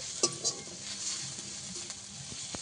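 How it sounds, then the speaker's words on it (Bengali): Ginger, garlic and onion fry in a pan with a soft, steady sizzle, broken by a few light utensil taps and scrapes near the start, quiet and close. "আদা রসুন পেঁয়াজ ভালো করে ভেজে নিয়েছি"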